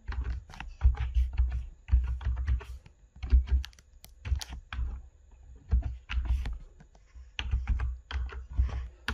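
Typing on a computer keyboard close up, bursts of quick, uneven key clicks with brief pauses between runs.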